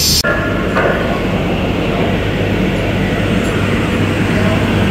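A passenger train pulls away from platform 1 on its first commercial run, giving a loud, continuous rumble and rolling clatter of the carriages that starts with a brief knock and then holds steady.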